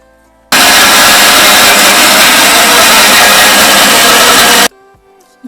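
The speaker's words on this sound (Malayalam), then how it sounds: "ഇനിയിപ്പം നമുക്ക് തേങ്ങായും പൊടിച്ചിട്ട് തേങ്ങയുടെ കൂടെ നമ്മൾ പുളിയും ചേർത്ത് പൊടിക്കുക" Mixer grinder grinding coconut with tamarind, a loud, harsh motor whirr that starts abruptly, runs steadily for about four seconds and cuts off, with quiet room sound around it.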